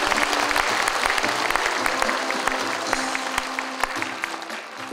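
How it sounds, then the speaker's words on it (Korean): Steady round of applause from an audience of city staff at the Mungyeong mayor's retirement ceremony, a dense, even clapping that fades slightly toward the end. "박수 부탁드립니다."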